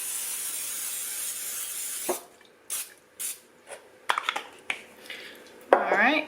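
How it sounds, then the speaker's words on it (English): Cooking spray hisses into a 13 by 9 by 2 baking dish, first a long continuous spray, then several short separate bursts of varying length, close and fairly loud. "I am just gonna spray it real good"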